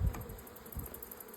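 Honeybees buzz in a steady, close drone around an open beehive, the hum holding level with slight swells and no voices.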